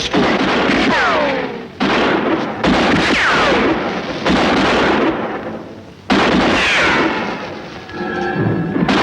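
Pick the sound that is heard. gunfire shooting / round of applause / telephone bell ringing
gunfire shooting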